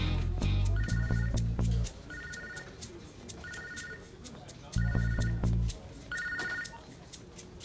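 Repeated double-burst rings of a telephone in a Hindi film scene, loud and close, four ring cycles with short gaps and a low buzzing hum under them.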